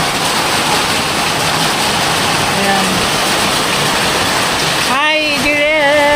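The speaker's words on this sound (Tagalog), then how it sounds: "Lakas ng ulan." Heavy rain pours steadily outside a house, a dense continuous hiss filling the whole stretch, with a voice speaking briefly near the end over the downpour.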